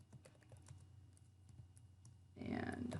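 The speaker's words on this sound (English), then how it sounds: "I'm just typing from the instructions" Soft, scattered key taps on a computer keyboard while typing up a Word document, faint and close, and then a person starts speaking near the end.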